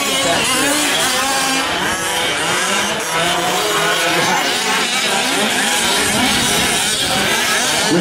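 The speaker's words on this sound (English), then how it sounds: "Gary Perez putting on a good drifting seminar right now" Loud, continuous engine roar and tire noise from a 4WD truck drifting at a racing event, the 2014 West Coast Nationals, filling all eight seconds with steady rasping intensity and no clear pauses.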